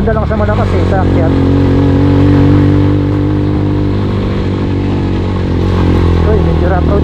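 Motorcycle climbing a steep mountain road in second gear near Sapang Uwak, Porac, Pampanga, its engine droning loud and close with a steady strained growl, while a rider talks over it.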